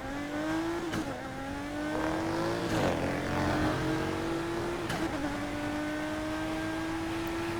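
A modded Nissan GT-R in the video game Need for Speed drives hard, its engine holding a steady high drone that climbs through gear changes with brief shifts, loud and continuous with no talk.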